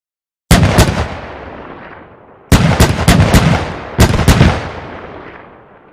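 A Flak 38 anti-aircraft gun mounted on a WW2 half-track fires in Arma 3, three loud bursts of two to four rapid booming shots each, every burst trailing off in a long echoing decay with no voices.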